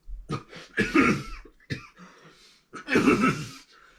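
Several harsh, close coughs come in two bursts, separated by a brief pause with a softer throat sound.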